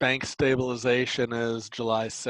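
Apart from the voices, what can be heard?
None of the usual background noises is heard.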